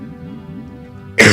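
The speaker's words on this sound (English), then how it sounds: "Stop coughing" A single sharp cough bursts out loudly near the end, close to the microphone, after a stretch of quiet background hum during Super Mario 64 gameplay.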